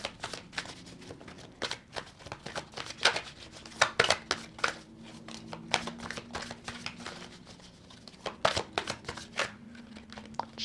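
Tarot cards are shuffled in quick, crisp riffling bursts and soft slaps, irregular but continuous over about ten seconds, close and clear with no talking.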